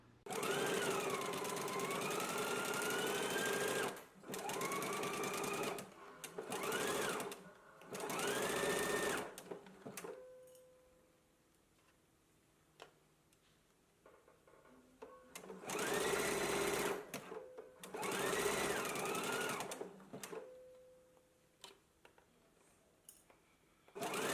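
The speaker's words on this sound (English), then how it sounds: "And now we can go to the sewing machine." A domestic sewing machine stitches a sleeve seam in several bursts of fast whirring, each run a few seconds long with pauses between them, close and loud, and quiet gaps with faint handling noises.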